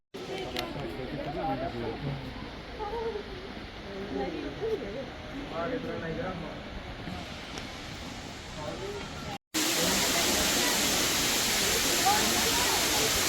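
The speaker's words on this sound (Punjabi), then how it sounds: "ਝਰਨਾ ਚੱਲ ਰਿਹਾ ਪਾਣੀ ਦਾ" Steady rushing water noise from a waterfall at Rock Garden, Chandigarh fills the background while people talk over it; the roar jumps louder and brighter near the end.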